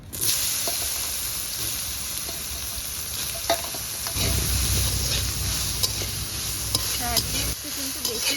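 Soybean chunks fry in oil seasoned with salt and turmeric, giving a steady close sizzle with scattered clinks and scrapes of stirring, growing louder and denser midway.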